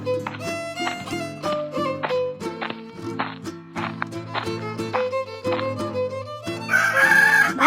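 Chickens at a market, with repeated close clucks and squawks in a busy rhythm, rising at the end into a loud crow.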